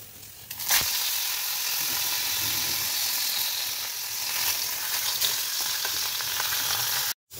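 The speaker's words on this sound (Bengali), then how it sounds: "এখন এই যে কড়াইয়ে একটু অল্প তেল গরম করছি, মাছটা ভেজে আর ঝোলটা করব" Fish fries in a little hot oil in a wok, a steady loud sizzle and hiss that begins with a sharp burst as the fish goes in and continues evenly, then cuts off abruptly at the end.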